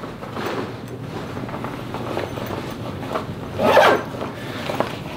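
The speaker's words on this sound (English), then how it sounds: "you unzip this other area" A zipper on a camping pillow is pulled open in a few soft rasping strokes, ending in one louder, longer unzip near the close, heard alone with no talking.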